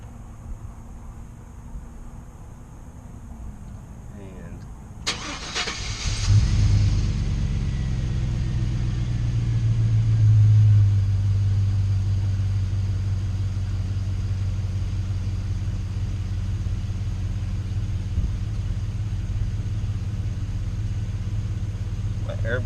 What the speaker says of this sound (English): Number 5, start up the engine.